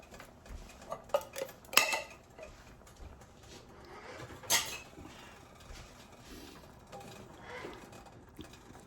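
Metal pots clank and cutlery clatters while goulash is being cooked, a few sharp close knocks early on and another mid-way, over a low, quiet kitchen background with no talk.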